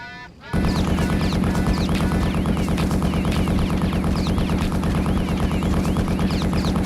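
Rapid continuous mech weapon fire in the MechWarrior 3 video game, loud sustained bursts running almost the entire time after a short quiet start, with warbling game effects layered over the firing.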